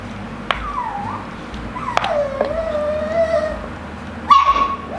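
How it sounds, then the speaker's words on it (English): Young puppies whimper and yip in a kitchen, a long wavering whine stretching across most of the moment with sharper yelps near the start and end, fairly close over steady room noise. "And the puppies are needy."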